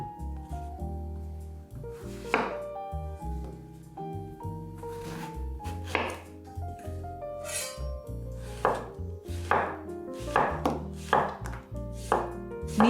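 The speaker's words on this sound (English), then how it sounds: "Now take one zucchini and slice it your way." A knife slicing through a zucchini on a board, a series of crisp chopping strikes landing in an uneven rhythm over a bed of soft background music, close and moderately loud.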